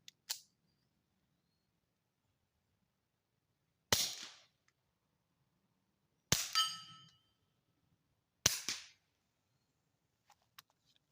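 Three suppressed rimfire subsonic rounds fired through an Energetic Armament silencer at a range, each a sharp muffled crack with a brief ringing tail, spaced a couple of seconds apart amid quiet.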